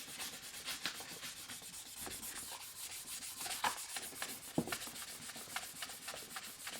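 Fine-grit sandpaper rubbing over the body of an 8-string guitar kit, a close, quiet, continuous scratchy swishing with uneven back-and-forth strokes and no talk.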